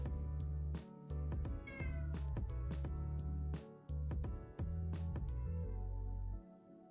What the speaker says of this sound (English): Oh my goodness, kitten.